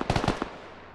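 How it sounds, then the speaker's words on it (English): Rapid automatic gunfire in the video game Squad, a quick burst of five or six sharp cracks followed by a single shot, then a fading echo tail. "Judgmental Joe takes shots at Gorlami and JPEP as they cross."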